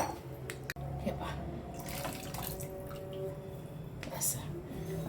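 Water is poured into a pressure cooker in a home kitchen, a steady near splashing stream running under a soft background voice, with a brief gap early on.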